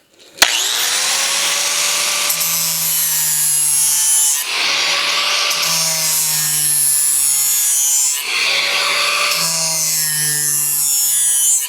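A drain spade's steel blade is sharpened in even passes across its full width, giving a loud, steady grinding rasp in three long, continuous strokes with brief breaks between them, close up and with no talking.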